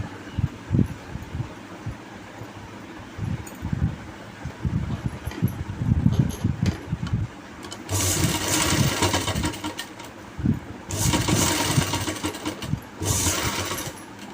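A sewing machine stitching a zip with a single dubb, bursts of fast mechanical whirring in the second half, preceded by softer handling clatter and faint background noise.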